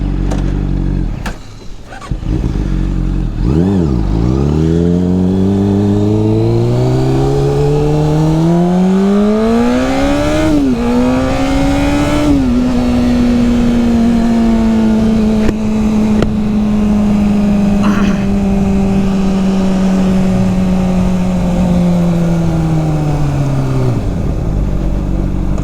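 A Honda CBR 600 sport motorcycle starts, revs and accelerates hard, its engine note climbing steeply through the gears before settling into a sustained high-pitched drone close by, with no talk.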